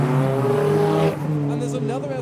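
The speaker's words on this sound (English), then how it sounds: "Now there is what sounds like a large convoy of cars arriving." Japanese cars such as an S14 and an EP3 arriving in a convoy at a car meet, loud engines droning near and steady, then easing off as tyres and exhausts pass, with people talking over it.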